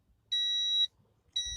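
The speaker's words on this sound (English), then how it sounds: "when you insert the key, the car starts beeping" A 1993 Honda Beat gives off a high electronic warning tone when the key goes into the ignition: one steady beep of about half a second, a short gap, then a second one starting. The tones are clear and close, with no talk.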